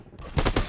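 Gunfire in a first-person shooter game, a Counter-Terrorist match: two or three rapid, punchy shots in quick succession, loud and close.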